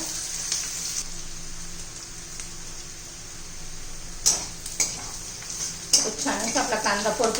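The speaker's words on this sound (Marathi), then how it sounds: "मग कांदा परतून घेऊया आपण" Onion sautéing in a pan for a home-cooked cluster bean (gavar) dish: a steady low sizzle, then a few sharp clinks and scrapes of stirring toward the end, with a faint background hum.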